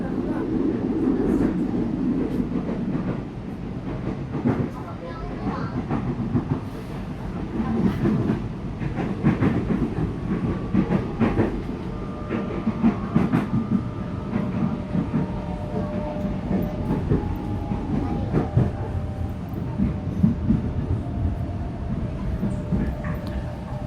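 Indonesian KRL INKA CLI.22 commuter electric train running on rails near Rajawali station, a steady loud rumble of wheels with rhythmic clicks and faint tonal whine throughout, heard from on board.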